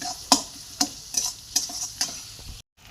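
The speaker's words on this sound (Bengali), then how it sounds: "ভালো করে নাড়িয়ে লাল লাল করে নাড়িয়ে নেবেন।" A spatula stirs tomato and ginger-garlic paste frying in a pan for katla fish kalia, giving five or six close, crisp scraping strokes in a steady rhythm over a soft sizzle, then a sudden cut to silence.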